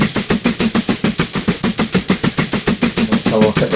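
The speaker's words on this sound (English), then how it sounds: "First you see the trains coming into the stations." A steam train pulls into a station in the Mashinky railway video game, a loud, rapid, evenly spaced chuffing rhythm repeating through the clip with a hiss at the end.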